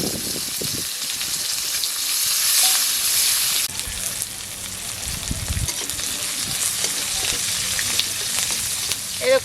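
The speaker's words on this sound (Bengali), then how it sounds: "এরকম বন্ধুরা পেঁয়াজ ভাজা হয়ে গেছে" Onions frying in a pan for a pomfret mustard-poppy seed curry, a steady close hiss of sizzling oil with light stirring and scraping, the sizzle easing slightly partway through, with no talk.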